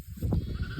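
A sheep bleats on a lambing farm, one short nasal call heard close and clear over low background noise.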